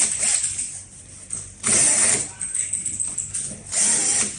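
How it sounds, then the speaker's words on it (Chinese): Cordless power screwdriver backing screws out of the back panel of a water pump, a bursts of high whirring at close range separated by short pauses and handling clatter. "我这里用的是手电枪，如果没有手电枪的话，用螺丝刀也可以"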